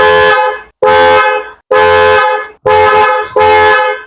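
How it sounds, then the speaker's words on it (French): A car horn sounded during a test after airbag work, five loud, sustained honks of nearly a second each, separated by short gaps, close and alone. "On va maintenant tester si le klaxon marche dans toutes les positions."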